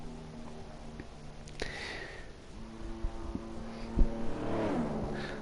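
Formula-style race car in pre-season testing on soft tyres with ERS and DRS, the engine pitch climbing through gears as it accelerates along a fast lap toward turn 1, moderately loud and without talk.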